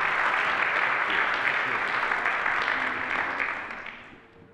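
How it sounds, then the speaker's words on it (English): Congregation applauding in a church worship service, a broad, even patter of many hands that fades out toward the end. "let's give a round of applause in celebration"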